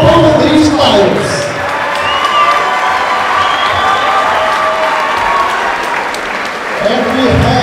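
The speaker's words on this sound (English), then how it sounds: "Let's give a big round of applause for both of these fighters" After a fight, a loud, close crowd claps, cheers and whoops for both fighters, with shouts and excited voices mixed into the dense applause throughout.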